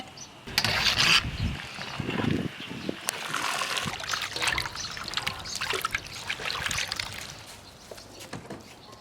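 Water trickles and splashes as blanched carrot strips are drained and pressed dry, a close, uneven run of dribbles and spatters that comes and goes in short bursts, fairly quiet.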